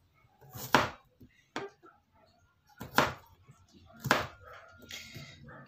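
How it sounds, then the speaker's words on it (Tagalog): A knife chops through taro root on a board in four or five separate heavy thuds, each with a brief crunch and quiet gaps in between. "Hiwain natin tong gabi."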